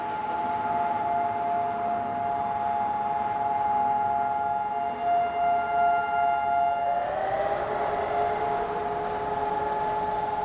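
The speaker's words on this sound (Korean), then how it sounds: "사이렌 소리에 많은 사람들이 차를 멈춥니다" A long, steady civil defense siren wails in the distance over low traffic and street ambience in Israel on Independence Day morning, its pitch shifting slightly partway through.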